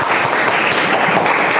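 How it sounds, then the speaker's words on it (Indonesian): A crowd claps steadily and densely for a short stretch, the applause loud and continuous without breaks. "tepuk tangan semua buat kita ya"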